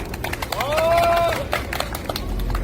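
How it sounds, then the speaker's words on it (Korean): A busking audience at an outdoor recreation show claps and cheers for the second singing contestant. Sharp claps build around a single sustained vocal cheer, then loosen into scattered clapping. "박수 함성!"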